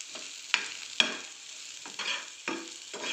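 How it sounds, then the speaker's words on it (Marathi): Crushed peanut powder being stirred into a hot onion kalsa in a pan, with a handful of sharp spoon scrapes and soft sizzling strokes repeating at an unhurried rhythm, close and fairly quiet, no voices. "दाण्याचं कूट छान ह्याला आता मिक्स करून घ्यायचं आहे आपल्याला"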